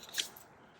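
Scissors snipping a small trim off a piece of paper while working on botanical ephemera, a single short crisp cut heard up close and alone.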